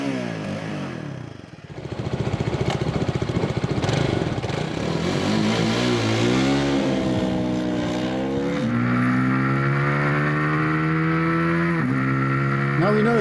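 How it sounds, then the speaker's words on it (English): A Hyosung GD250N 250cc motorcycle engine revs hard on a drag strip, climbing through gears with rising whines and brief drops between shifts, loud and close. "Time to take the 250 Hyosung down to the Two Wheels TV drag strip."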